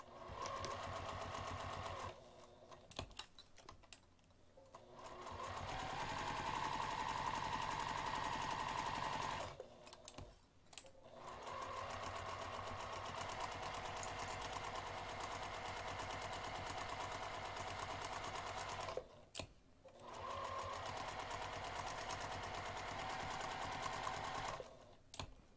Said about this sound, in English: So we're going to start sewing over here.